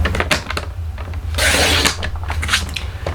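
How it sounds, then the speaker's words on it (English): A paper trimmer slices through cardstock for a holly-stamped card, with one brisk scraping swipe of the blade amid light clicks and handling of the paper and tool. "So I'm going to bring in my trimmer. And we're going to cut it this way first at 4."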